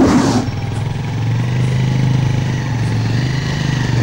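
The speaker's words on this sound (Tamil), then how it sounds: "சக்தி சக்தி சக்தி, வண்டி நிறுத்து" Motorcycle engine running close by, a loud, steady droning hum that dips briefly after a short burst of noise at the start, then holds an even tone while riding, with no speech.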